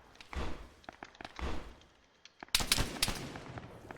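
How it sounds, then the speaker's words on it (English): Gunfire in a military shooter game, sharp reports firing through bushes: scattered single shots early, then a loud close burst of several rapid cracks after a short lull. "Firing through the bush"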